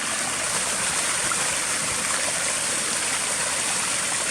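Steady, close rush of water spilling down a backyard rock waterfall, a continuous bright splashing flow with no pauses or voices.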